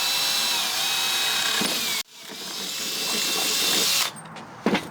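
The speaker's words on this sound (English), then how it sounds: "We're going to drill our hole through the metal rod and then bolt it in." A power drill bores a hole through a metal rod while a canoe seat back rest is being fitted, whining loudly for about two seconds, stopping, then spinning up again before cutting off with a short clunk.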